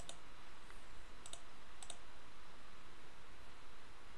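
A few crisp mouse clicks in animation software, about three sharp, close taps spaced out over a low steady hiss, with no talking.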